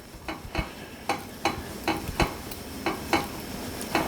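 Scrambled eggs cooking in olive oil in a pan, with a steady soft sizzle and regular spatula scrapes and taps about twice a second, close and fairly loud.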